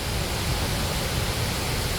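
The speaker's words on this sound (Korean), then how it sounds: "인공폭포로 지난 1997년도에 완공한 곳입니다." The artificial Yongma Falls, completed in 1997, pours into a large pond below, a steady, unbroken rushing roar of falling water that fills the whole moment at an even level.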